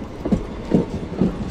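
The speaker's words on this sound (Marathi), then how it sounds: "खोपोली ट्रेन आलेली आहे आपलीकडे." Khopoli local train pulling into a station, a steady low rumble with three periodic clacks of wheels over rail joints, fairly close and alone without talk.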